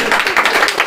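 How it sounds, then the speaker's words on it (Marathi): An audience at a competitive-exam study event claps loudly and briskly in a steady patter of many hands. The burst is brief and close. "जोरदार टाळ्या होऊ द्या."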